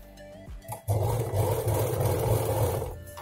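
A sewing machine stitching a handbag at home, its motor starting abruptly and then running in a steady close whirring drone for a few seconds.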